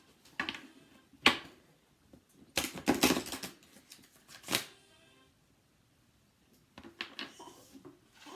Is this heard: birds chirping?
no